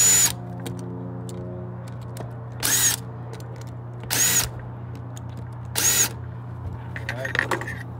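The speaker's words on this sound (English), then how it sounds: "and drill a bit." A power drill bores holes into a table in short, loud bursts, four separate whirring runs separated by pauses, with faint handling noise and a quiet background hum between them.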